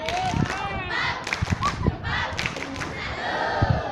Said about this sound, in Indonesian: Coba yuk, tepuk salut